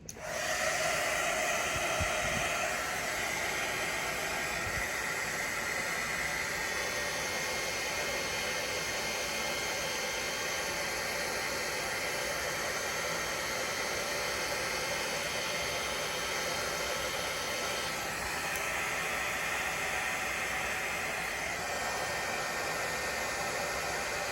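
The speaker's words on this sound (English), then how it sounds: "Now I'm just going to heat shrink it." A heat gun blows hot air to shrink heat-shrink tubing over a soldered wire joint on a fuse holder, a steady, close, airy whoosh lasting throughout with no talk.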